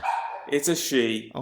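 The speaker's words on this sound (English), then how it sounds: "That's my dog." A small dog barks several quick, sharp yips close by, mixed in with people talking over it.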